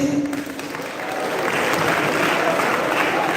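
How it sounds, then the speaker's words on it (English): An audience applauds a college team at a college event, a broad wash of clapping that swells and holds steady, with a voice briefly audible at the start. "Applause please."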